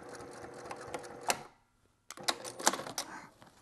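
Sewing machine stitching a pocket on a cork journal, a close rapid mechanical chatter of stitches that stops briefly for a second of quiet, then resumes in uneven bursts.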